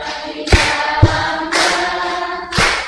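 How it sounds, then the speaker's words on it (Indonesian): A church congregation claps hands along with a sung sermon, three or four sharp claps spaced about half a second to a second apart, each ringing out over sustained singing. "Boleh sambil tepuk tangan?"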